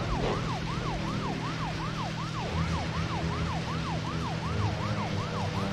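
A police car siren in the video game Deadly Premonition wails in a steady, rapidly repeating up-and-down cycle, loud and continuous over a low engine drone, with no talk.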